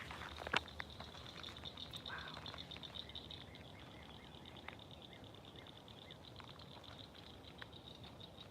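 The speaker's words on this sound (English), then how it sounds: "I think those are wood frogs. The ones that sound like they're chewing rubber bands." Wood frogs call in a native habitat in Houston, Texas, a steady chorus of rubbery, chewing chatter going on throughout, with one sharper close sound near the start.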